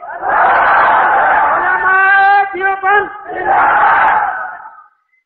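A large crowd at a religious gathering in Karachi roars a chanted response in unison. The massed voices are loud and sustained, with a brief tonal swell in the middle before the roar returns and fades.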